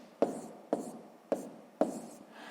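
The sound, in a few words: writing down a fraction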